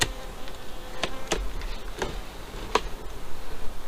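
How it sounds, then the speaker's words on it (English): Bees moving in and around a farm beehive in December, with a low, steady buzz broken by a few sharp ticks and clicks from nearby wings and the hive. "There's quite a few bees moving in and about"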